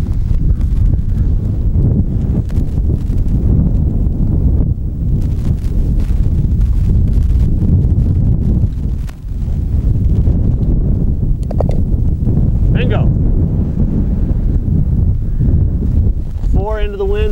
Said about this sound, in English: a little wind off my right shoulder